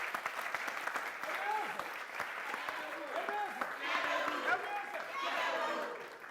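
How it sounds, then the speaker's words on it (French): An audience applauds on a television entertainment show, with steady continuous clapping throughout and voices talking over it. "ce sont nos amis du Sénasa que je vous demande d'applaudir bien fort"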